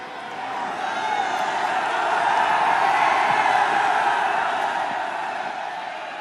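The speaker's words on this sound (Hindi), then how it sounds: "आप सबकी तालियों के साथ" A large audience at a Varanasi public event with Prime Minister Narendra Modi breaks into sustained applause and cheering, a dense wash of clapping that swells to a peak midway and then eases slightly.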